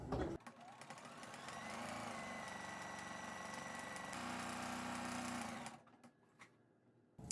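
A sewing machine stitches around the outer edge of a quilted scrap-patchwork pillow cover, 1/8 inch from the edge, running in one steady, close, continuous burst for about five seconds before stopping.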